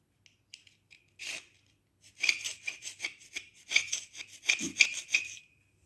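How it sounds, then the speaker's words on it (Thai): Old tile grout joints being scraped out with a hand tool, giving bursts of dry, gritty scratching strokes in an irregular rhythm, close up and moderately loud with short pauses between passes. "คนะว่างๆก็ขูดไป ให้เคลียร์ของเก่าก่อนก่อนที่จะลงยานแนวนะคะ"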